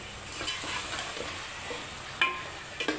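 A spoon stirs chicken curry spices in a pan with a soft, steady scraping over a light sizzle, ending in a few sharper knocks near the end.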